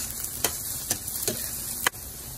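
Beef sautéing with garlic and onion in a pan sizzles at a steady low level, broken by four sharp scraping stirs spaced about half a second apart, close up with no voices.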